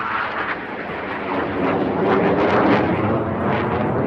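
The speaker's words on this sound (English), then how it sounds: "Notable this year, a solo by an L-159 Alka." An L-159 Alca military jet roars past in a solo airshow display, a broad, loud rushing jet noise that swells toward the middle and holds without talk.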